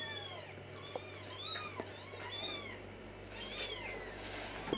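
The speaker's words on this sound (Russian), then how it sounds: "котята уже сильно распищались" Several kittens squeak and meow repeatedly, close and insistent, their high calls overlapping in a continuous chorus with no talking.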